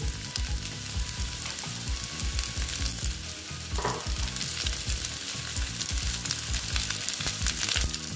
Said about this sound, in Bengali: লতিগুলো এবার আমি ভেজে নেব ভালো মতন